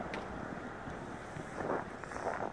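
A homemade rocket stove, lit for the first time, burns with a steady, faint, breathy roar like rushing air, with a few brief surges.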